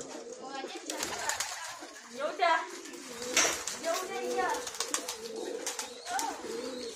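Pigeons or doves coo in soft, repeated throaty calls nearby while people talk over them.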